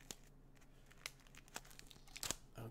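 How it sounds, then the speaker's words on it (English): Plastic wrap being peeled and crinkled off a Mage: The Ascension Tarot deck (World of Darkness, Revised Edition), close and quiet, with scattered soft crackles and a few sharper crinkling bursts near the end. "Let me crack that and I will peel this packaging"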